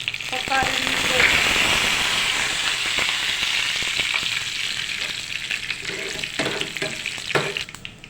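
Urad dal, chana dal, mustard seeds and curry leaves fry in hot oil with a loud, crackling sizzle and scattered sharp pops, close up and continuous.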